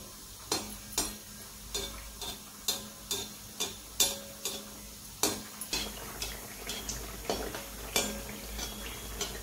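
Rajasthani pua frying in hot oil in a pan while being flipped, with a steady soft sizzle under a regular series of sharp utensil taps and clicks, quiet and close.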